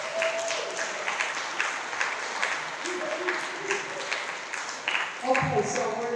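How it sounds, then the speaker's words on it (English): An audience at a community candidates' forum claps for school committee candidates, a steady spread of applause with a voice talking briefly over it near the end. "So could we give them a round of applause?"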